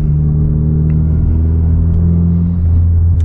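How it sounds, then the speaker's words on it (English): A 10th gen Honda Civic engine in first gear with the throttle released, a loud, steady low rumble and drone that holds evenly throughout. "I just let off the throttle in first gear"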